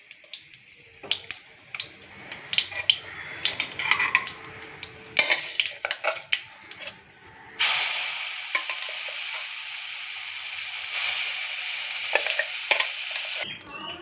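A ground paste is poured into hot oil with curry leaves for allam pachadi, first a few spoon clinks and taps, then a loud, steady sizzle and spatter that runs close and continuous before cutting off.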